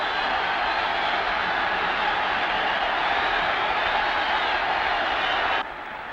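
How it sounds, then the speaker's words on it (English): A football crowd roars after a Kilmarnock goal headed in by the left back, a steady loud wash of cheering that holds for several seconds and then drops abruptly to a lower level. "And listen to the crowd roar."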